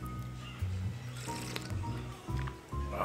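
Clam soup poured from a small bowl in a Japanese luxury ryokan, a soft close liquid trickle and splash, quiet and brief, over a low background hum.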